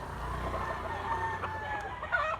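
A gamefowl stag rooster crows nearby, a drawn-out call with a rising and falling tone, alone without talk.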